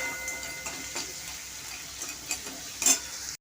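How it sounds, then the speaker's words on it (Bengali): Crab frying in oil with salt and turmeric in a wok, a soft continuous sizzle with light stirring clicks and a brief louder scrape near the end. "এই কাঁকড়া কড়াই দিয়ে দিচ্ছি, ভাজছি এখন"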